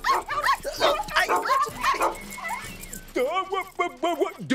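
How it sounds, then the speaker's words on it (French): A cartoon dog yips and barks excitedly in bursts with whimpering tones, mixed with a character's voice. "Gentil toutou, qui veut un bon biscuit pour chien?"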